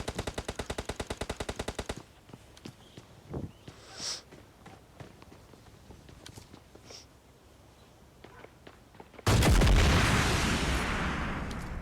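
Rapid automatic gunfire from PUBG Mobile Lite opens loud and rhythmic, then gives way to sparse footsteps and scattered single shots before a loud burst of noisy fire or blast closes the stretch.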